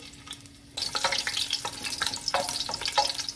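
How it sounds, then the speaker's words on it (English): Garlic cloves frying and burning in oil in a big pot of Jamaican curry, a steady loud sizzle that starts abruptly and crackles on with sharp spitting bursts. "So now I'm gonna add my oil, couple cloves of garlic, you know. I'm burning them."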